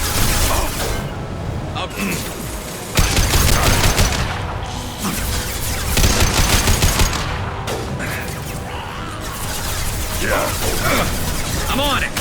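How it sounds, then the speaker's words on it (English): Heavy sustained gunfire in a Mass Effect 2 firefight on Omega, loud rapid bursts and booms filling the scene, with a brief spoken word over the combat noise. "Taking heavy fire!"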